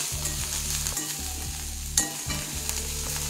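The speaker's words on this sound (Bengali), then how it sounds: "খুব বেশি ভাজতে হবে না, 1-2 মিনিট খালি একটু ভেজে নিলে হয়ে যাবে।" Fresh coriander leaves fry in a pan, a steady sizzle with repeated stirring scrapes and an occasional louder clink, close up and without talk.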